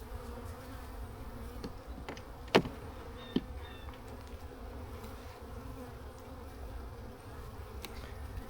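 Russian honey bees hum as a low, constant drone around an open hive during a honey super inspection, with a couple of sharp clicks from handling the equipment.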